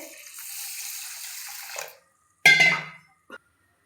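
Rice and lentils for khichdi are rinsed in water, a running splash for about two seconds, then a short sloshing rinse and a brief clink after a pause.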